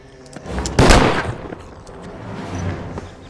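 A single loud gunshot rings out near the start of a film scene and is followed by a short, fading rumble and some low background noise.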